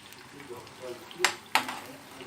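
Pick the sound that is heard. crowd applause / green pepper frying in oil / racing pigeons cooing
green pepper frying in oil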